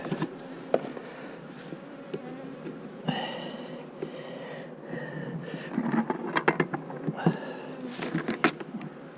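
Honeybees fly and buzz around an open hive while queen cells are being installed, a close, busy droning hum with individual bees swelling and fading near the microphone.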